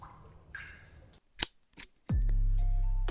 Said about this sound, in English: the snippety snip of Atropos' scissors